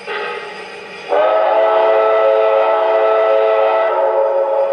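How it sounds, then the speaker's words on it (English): An MTH C&O 4-8-4 Greenbrier model steam locomotive's standard whistle blows, a soft lead-in then a loud, sustained chord-like tone with reverb that holds for several seconds, alone. "let's check out the standard whistle"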